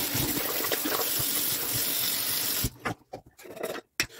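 Tap water runs and splashes steadily into a sink as the face is wetted before a straight-razor shave, then breaks into a few short splashes and drips near the end; no voices.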